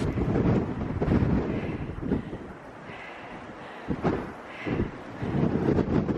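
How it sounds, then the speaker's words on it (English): Strong storm gusts buffet the microphone on a coastal walk at Mawgan Porth near Newquay as Storm Arwen approaches, in heavy, roaring waves that swell and ease over several seconds, with no talking. "I think it's very windy."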